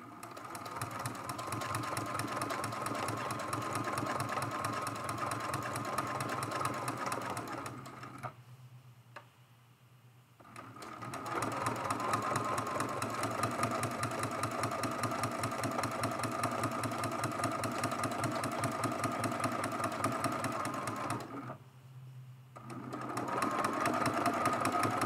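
A sewing machine runs steadily, its needle stitching in a rapid, even hum while quilting a hummingbird mosaic art quilt, with two brief pauses as the fabric is turned and shifted.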